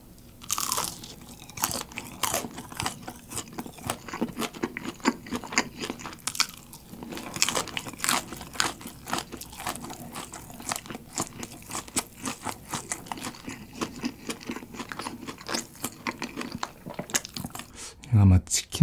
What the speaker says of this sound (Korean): 뭔가 바삭할 것 같은 얘부터 먹어보겠습니다.